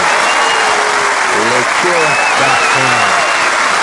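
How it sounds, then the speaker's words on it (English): A live podcast audience gives a loud, continuous round of applause and cheering while someone talks over it close to the microphone. "One more round of applause."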